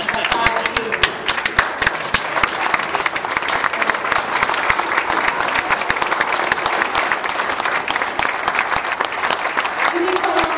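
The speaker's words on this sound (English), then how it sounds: "I want everyone to stand up right now and clap for yourself" Standing audience clapping for themselves at a chamber of commerce talk, loud sustained dense applause with crisp individual claps close by, continuous for about ten seconds.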